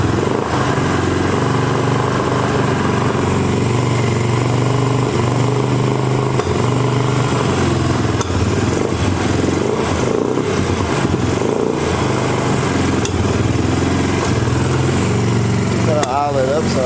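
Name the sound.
Suzuki LTZ250 Sport quad engine running and idling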